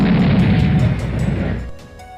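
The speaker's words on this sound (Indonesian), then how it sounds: "Ledakan yang sangat kuat pun tercipta dari pukulan Ryuko tersebut, yang juga sekaligus menghajar kedua musuhnya" A heavy blast from a powerful punch in an animated fight erupts with a deep rumbling roar, then fades away within about two seconds.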